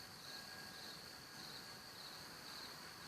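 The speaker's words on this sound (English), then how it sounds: "I don't know if you can hear the crickets." Crickets chirp in a summer evening setting beside a pottery workspace, a faint, continuous high-pitched trill that runs steadily without pause and with no talk.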